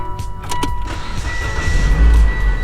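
A Mitsubishi car running after its key is worked in a stuck ignition, with a steady engine hum, an electric motor whine like a power window and a few clicks, rising to a louder low rumble near the end.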